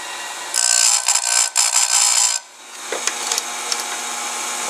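A sharpening wheel grinds against a chainsaw cutter in short, close, high-pitched bursts, broken by a brief pause and then lighter, scratchy contact strokes, with no voices.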